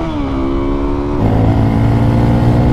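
A motorcycle running on bad gas gets hard throttle, its engine droning loudly close by, then dropping in pitch and swelling into a deeper, louder roar as load comes on, with no talk.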